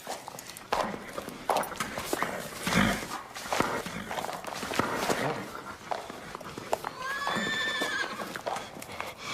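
A horse neighs with a rising, quavering whinny near the end, after hoof clatter and movement noises; a voice briefly sounds partway through.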